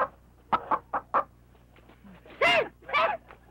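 A chicken clucking near bamboo in a comedy film, a few short clucks followed by two louder, longer squawks, close and clear against a quiet background.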